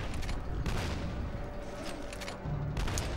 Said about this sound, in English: and then we'll start shooting.